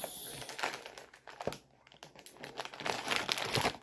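A Labubu blind box package is torn open and its wrapper unwrapped, with crinkling and rustling up close and a brief pause midway. The sound is quiet.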